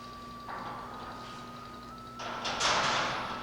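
An 8 ohm speaker on a radio test bench, driven by a 20 volt test tone, gives a steady faint pure tone that holds throughout, while a louder broadband hiss swells in toward the end.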